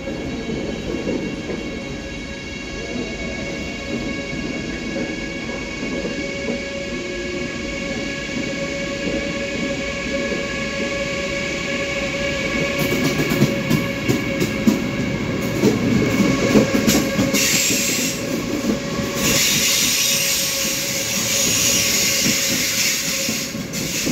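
ICE 3neo high-speed train running, a steady rushing rumble with hiss and faint rail clatter throughout, growing slightly louder and busier partway through.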